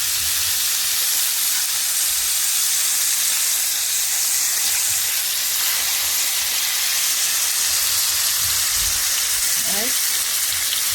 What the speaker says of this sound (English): If you start to sizzle here, I'm going to add the beef.